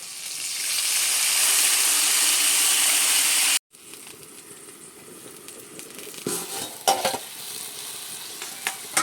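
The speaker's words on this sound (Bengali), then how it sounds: "এবারে আমি এখানে কেওড়ার ঝোলটা দিয়ে দিচ্ছি" Sour keora broth is poured into a pan of sizzling spice paste: a loud, steady frying hiss that cuts off abruptly, then quieter stirring, scraping and light clatter close by.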